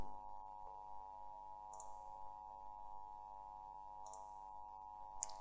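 A few sharp, faint computer mouse clicks, about three spread over several seconds, sit above a steady electronic hum.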